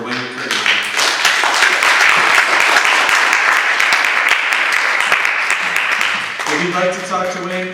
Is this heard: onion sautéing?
no